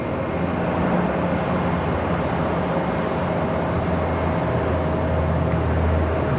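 A Mountain Air Cargo ATR 42 turboprop at Raleigh-Durham International Airport produces a steady, droning engine roar at night, with a constant low hum and even broadband rumble, moderately distant and unbroken throughout.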